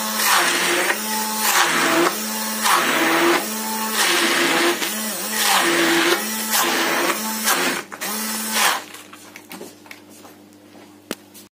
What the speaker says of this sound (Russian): Сейчас мы пропустим блендер, и будет у нас пюре гороховое.